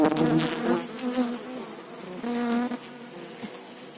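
Honey bees buzz up close, a dense droning hum swelling and fading as they swarm around the hive.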